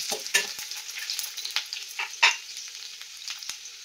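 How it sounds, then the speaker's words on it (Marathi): Onion sautéing lightly in hot oil in a pan, a steady close sizzle broken by the scrape and clatter of a spoon stirring at irregular intervals. "थोडंसं परतून झाला कांदा"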